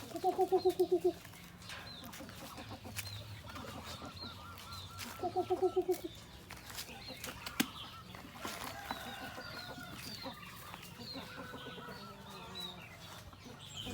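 Native Yunnan chickens on a Thai farm cluck and call nearby, two loud bursts of honking, throaty squawks early on, then scattered softer clucks and scratchy sounds over a quiet yard.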